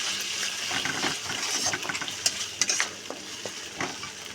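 A paste of cashews, raisins and onion with a pinch of turmeric fries for a katla fish korma, a soft, constant sizzle broken by scraping stirs and light clicks of the spatula against the pan.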